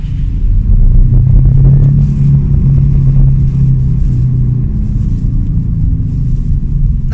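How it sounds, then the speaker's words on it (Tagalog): A car's worn rear wheel hub bearing gives a steady, loud low hum and rumble from the road, with a droning tone that holds for several seconds before fading slightly into the broad engine and tyre noise. "Napansin naman natin dito sa clip na ito ay medyo maugong yung bearing."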